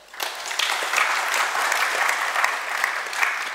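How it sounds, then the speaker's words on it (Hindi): A crowd applauds steadily, a dense wash of clapping that swells quickly and holds for a few seconds. "इस बात के लिए तो आप अपने लिए तालियां बजा सकते हैं।"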